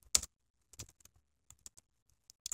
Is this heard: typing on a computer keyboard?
yes